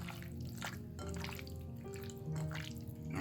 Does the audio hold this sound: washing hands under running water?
yes